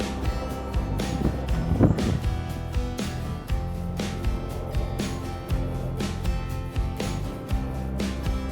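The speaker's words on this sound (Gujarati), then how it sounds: "પવન આવી રહ્યું છે જોરદાર." Strong wind buffets the microphone in rough, gusty bursts at a mountain gondola in Banff, Canada, among snowy peaks, producing a deep rumbling roar that rises and falls.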